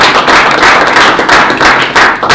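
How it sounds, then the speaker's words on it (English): Applause for a speaker at a blockchain technology talk, loud close-up clapping with heavy, rough bursts and little else audible, lasting only a couple of seconds. "please, a big applause for Kostas."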